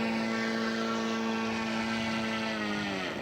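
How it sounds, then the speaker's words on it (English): A scale model aircraft's engine drones loud and close during a crosswind landing at an outdoor show, a steady buzzing whine whose pitch slowly sinks as it comes in. "Crosswind landing."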